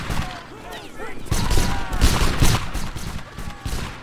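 Gunfire in an online multiplayer video game, bursts of shots and explosive booms recurring through the clip, loud and close, mixed with players talking over voice chat.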